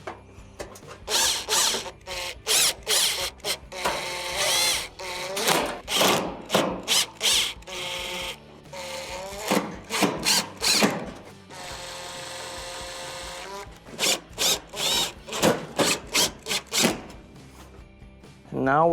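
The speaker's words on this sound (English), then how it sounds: "I'll replace the other perimeter screws." Perimeter screws being driven back into the panel of a Maytag stove during an electronic control repair, a close series of ratcheting and whirring driver bursts with clicks and metallic handling noises in between.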